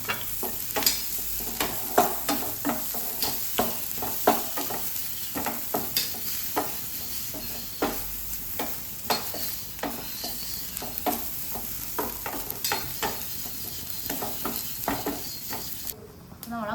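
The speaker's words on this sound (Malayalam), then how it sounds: "ഇനി ഇത് നന്നായിട്ടൊന്ന് വറുത്തെടുക്കാം" Grated coconut with fennel and curry leaves dry-roasting in a pan for vendakka curry, a soft continuous sizzle punctuated by regular scraping strokes of a spatula, close and fairly loud.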